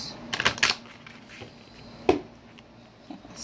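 A deck of angel cards being shuffled by hand, a few quick close papery riffling bursts followed by a sharper flick and a softer patter near the end.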